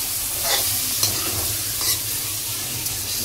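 Dhokla tempering (vaghar) sizzles in a pan at home, a steady hiss of hot oil with a few sharp crackles and spoon-stirring scrapes.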